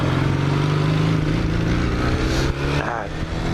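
A 1983-engined Honda CX500 motorcycle idles close by, its engine note faltering and stumbling unevenly, with someone talking over it.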